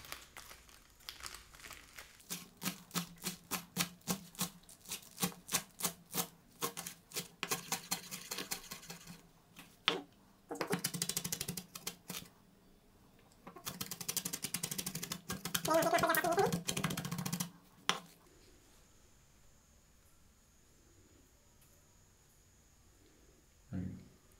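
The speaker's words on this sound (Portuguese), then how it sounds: "Aí agora a gente fatia os tomates meio que grosseiramente mesmo." Tomatoes sliced coarsely with a knife on a cutting board, a run of quick rhythmic chops followed by longer rustling bursts, close and fairly quiet, then near silence.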